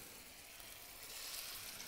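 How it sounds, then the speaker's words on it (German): Pork loin sizzles steadily in a hot frying pan, a close, continuous bright hiss with soft crackle that swells slightly toward the end. "Das blubbert oder brutzelt ja schon richtig schön hier."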